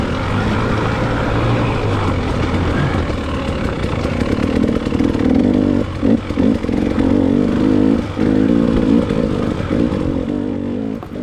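Dirt bike motorcycle engines during a hare scramble race, a steady loud droning whine from close by with revving pulses and brief dips partway through as bikes climb a hill.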